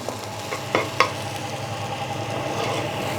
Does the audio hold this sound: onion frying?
yes